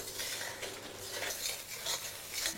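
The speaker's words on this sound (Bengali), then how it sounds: "এবার পেঁয়াজটা যতক্ষণ না ব্রাউন হচ্ছে, ততক্ষণ এটাকে এইভাবেই কুক করতে থাকুন।" Onion paste frying in a pan on high flame for Bengali katla fish kalia, a steady close hiss with soft scraping and stirring clatter throughout, no voices.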